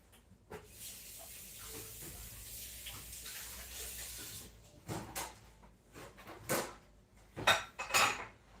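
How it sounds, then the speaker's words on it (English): Running water from a kitchen tap pours as hands are washed during turkey and stuffing preparation, a steady hiss for several seconds, then a few clattering dish and cupboard knocks close by. "Let me wash my hands again."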